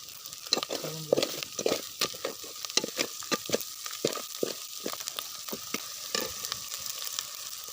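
Egg being stirred into masala in a pan for egg bhurji, cooked outdoors in a forest, with steady frying sizzle under repeated scraping, clinking strokes of a spoon against the pan, close by and without talk.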